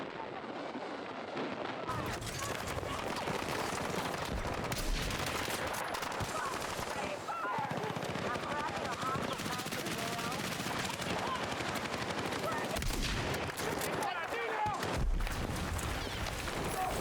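Gunfire in the video game Battlefield 6 during a Breakthrough multiplayer match: dense, continuous automatic bursts and explosions, with someone talking over the din throughout.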